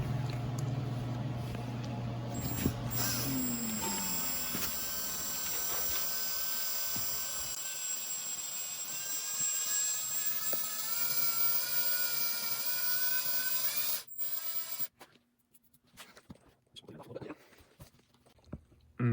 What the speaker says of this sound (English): we're gonna start drilling into the, that little import right there with the 2mm drill bit.